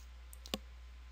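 A single sharp computer mouse click saving an ad in posting software, crisp and close in an otherwise quiet room, preceded by two tiny faint ticks.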